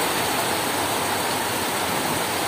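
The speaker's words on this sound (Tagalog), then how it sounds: "Pumupunta pa rin dito yung ulan." Rain falling steadily into a backyard concrete catfish pond in cold, rainy weather makes a dense, even hiss of pattering water that holds without pause and has no talking over it.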